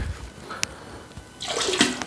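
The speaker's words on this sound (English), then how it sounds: "you just pour all of the filth down the drain" Dirty, brown water from a Hoover PowerDash hard floor cleaner's tank poured down a drain: a steady watery wash that swells into a louder gushing pour near the end, close and without talk.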